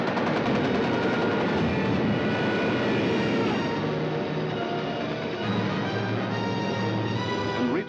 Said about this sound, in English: Some of the German bombers broke through London's defenses.